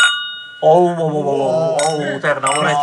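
A brief bright ring of glasses clinking together in a toast opens the moment, then several people talk warmly over it.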